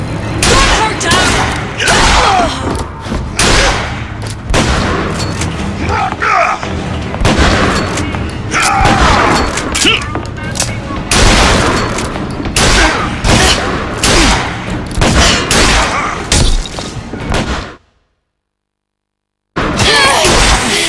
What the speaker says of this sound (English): Gun her down!